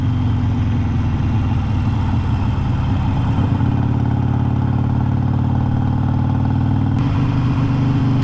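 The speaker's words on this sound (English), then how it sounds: "Bike sounds the way I think it should now." A Harley Sportster motorcycle engine fitted with Thunder Torque inserts runs steadily at idle, a loud, deep, continuous rumble close by with a brief shift in tone near the end and no talk over it.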